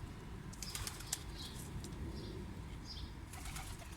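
Tumbler pigeon wings flapping in flight, a series of soft, fluttery bursts moving about at moderate distance over low steady background rumble.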